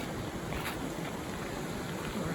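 Bear Creek flows steadily in a mountain canyon during a stream crossing, its broad, even rush of water close by and continuous, with some wind mixed in and no talking.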